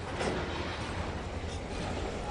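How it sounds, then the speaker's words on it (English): Model train wagons roll along the track behind NS engines, giving a steady, close clattering rumble that holds at an even level for a couple of seconds with no voices. "They're now part of that wagon train leaving town with the rest of the NS engines."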